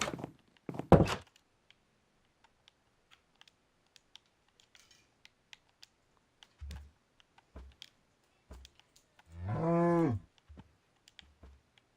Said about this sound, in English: and then here's a cow